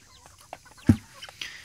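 A few chickens cluck softly and intermittently, one louder close cluck standing out among quieter scattered calls.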